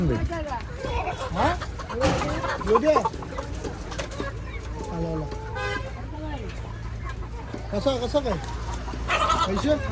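A rooster clucks repeatedly nearby amid other fowl, with people's voices murmuring in the background.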